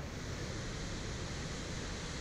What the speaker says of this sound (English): This waterfall, Dettifoss, is the most powerful in Europe.